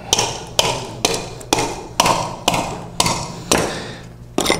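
Hatchet blows striking a knotty wooden decoy blank being chopped to shape, eight sharp, evenly spaced chops about every half second, close and loud, each with a short ringing thud.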